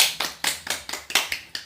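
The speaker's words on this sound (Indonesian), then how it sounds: "Tepuk tangan dulu." Hand clapping in a short burst of about eight sharp, evenly spaced claps, close and fairly loud, with no voices over it.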